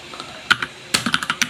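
Quick bursts of typing on a computer keyboard, a few separate clicks and then a fast run of close, crisp keystrokes, with no talking.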